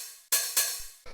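A standard Roland 909-style hi-hat sample strikes several times, each hit a crisp, bright burst of noisy sizzle that decays quickly, heard alone and close.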